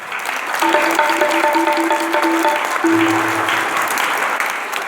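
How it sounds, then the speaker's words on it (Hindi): An audience applauds at a school's sixth foundation day ceremony, with dense, steady clapping filling the hall for several seconds. A faint tonal melody plays beneath the clapping. "आप लोगों की तालियों की गड़गड़ाहट मेरे को सुनाई नहीं पड़ती।"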